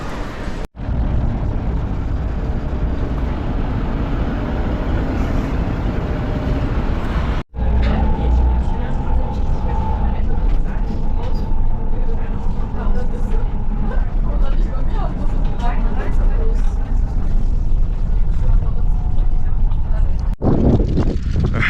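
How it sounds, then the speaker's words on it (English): Steady, loud interior rumble of a bus ride toward Sanssouci Palace, a continuous engine and road drone with wind buffeting and brief gaps, with people talking over it. "gonna make our way to the bus and then take it to Sanssouci Palace"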